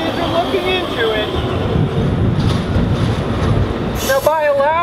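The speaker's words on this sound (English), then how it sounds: "by allowing trains with oil from this fracking to come down this rail line" Oil train rolling along a rail line, a continuous rumble with wavering high-pitched wheel squeals that grow sharper toward the end, heard fairly close.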